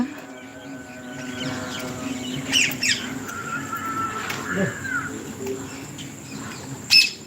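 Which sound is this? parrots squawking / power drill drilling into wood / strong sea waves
parrots squawking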